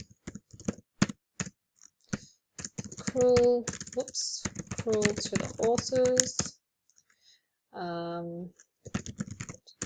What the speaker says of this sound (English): sorry, my terrible typing